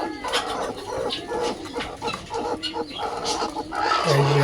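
Chickens cluck steadily at close range, including a hen brooding on a clutch of eggs in a poultry shed, with a dense, continuous mix of bird calls and scratching and no talk.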